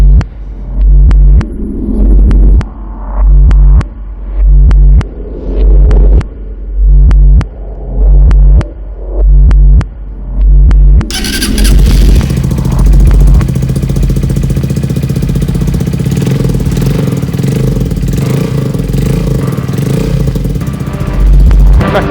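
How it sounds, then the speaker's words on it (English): A 2019 Honda CB125F with a Scorpion exhaust is revved in about ten short, evenly spaced bursts, then settles into a continuous, loud, throaty engine run close by. "it's got the Scorpion exhaust, so it sounds absolutely awesome"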